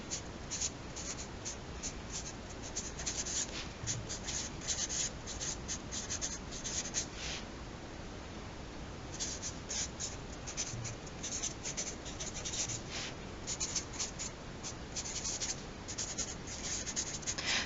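Someone writing a story by hand on paper, heard as a continuous, close scratching of pen or pencil strokes for about eighteen seconds with a steady, busy rhythm and no talking.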